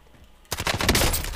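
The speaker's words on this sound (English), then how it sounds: "I'm gonna have to use my pistol" Video game pistol gunfire cracks in abruptly after a near-silent moment, loud quick shots rattling in a tight cluster with no talk over them.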